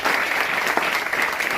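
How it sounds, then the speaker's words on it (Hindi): An audience at a poetry recitation competition breaks into dense, continuous clapping, loud and close throughout the short burst. "एक बार जोरदार तालियां बजाइए।"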